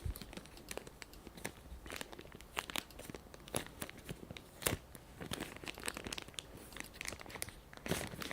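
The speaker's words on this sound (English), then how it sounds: "Let's just unwrap this thing." Soft, steady crinkling and tearing of packaging as a purchased item is unwrapped, a busy stream of small rustles and crackles with occasional sharper snaps, close but quiet and without speech.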